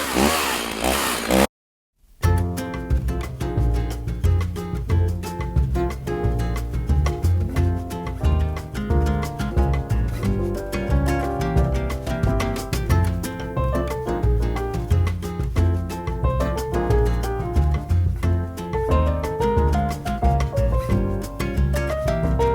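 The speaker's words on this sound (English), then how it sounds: "today I will be using the chainsaw to cut up a few of these" A chainsaw cuts up branches with a loud, continuous engine roar whose pitch rises and falls as it revs and bites, running almost unbroken after a brief gap near the start.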